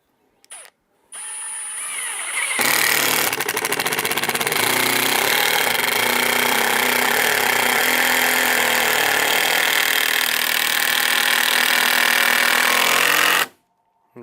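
An impact driver sinks a screw into live edge lumber, running loud and steady for about eleven seconds with a dense rattling hammer-like buzz after a brief start, then cutting off as the screw seats flush.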